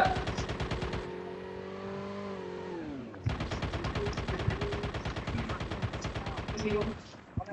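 Gunfire rattles in Call of Duty Mobile, with a long run of rapid, evenly spaced shots that follows a revving vehicle engine; the shots are loud and close, and players talk at times.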